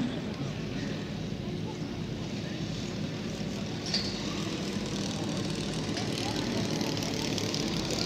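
A quarter-scale radio-controlled Fieseler Storch Fi 156 model aircraft with a 12-foot wingspan drones steadily at a flying field, its engine a continuous, even hum heard from a distance, with faint outdoor background noise.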